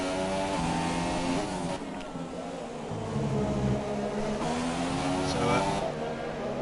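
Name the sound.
Toro Rosso Formula 1 car engine in F1 2017 video game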